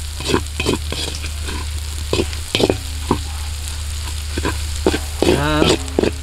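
Pork stirred and fried in a pan outdoors for adobong baboy with sitaw, giving a constant close sizzle with scattered scraping and knocking strokes of a spatula, and a brief squeaky scrape near the end.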